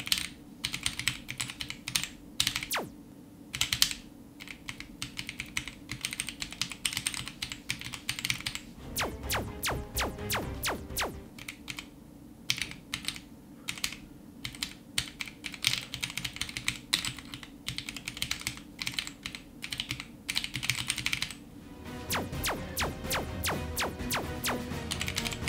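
Rapid, continuous typing on a modded RGB mechanical keyboard during a typing game makes dense, close clacking keystrokes, with brief bursts of sharper key hits now and then.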